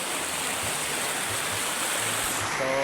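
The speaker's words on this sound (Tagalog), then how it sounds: "ganda ng agos ng tubig" A stream of flowing water rushes steadily and close by at an outdoor spot, a broad continuous wash of sound with no talking.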